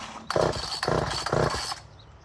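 A Poulan 1800 chainsaw is pull-started in three quick, loud rasping cranks in a row, close by, without the engine catching into a steady run.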